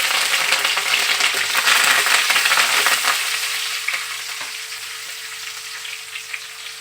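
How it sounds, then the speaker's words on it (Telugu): Dried red chillies and curry leaves crackle in hot oil: a loud, dense, close sizzle and spatter that gradually softens toward the end, with no voices. "ఇవి కాస్త చిటపటలు ఆడిన తర్వాత ఒక 2 రెమ్మలంత కరివేపాకు అయితే వేసుకుంటున్నాను"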